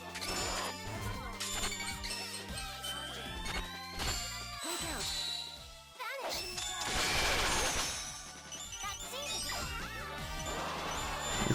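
Smashing of a barrel in a video game, with repeated crashing, splintering hits over busy game music and effects, loud and close throughout.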